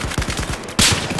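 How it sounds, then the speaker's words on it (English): A light machine gun fires a fast, loud burst in Battlefield 4, its rapid shots driving hard rhythmic pulses before a sharper, brighter blast cuts in near the end. "But this new light machine gun is terrible."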